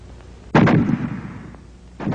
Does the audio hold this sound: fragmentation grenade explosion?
yes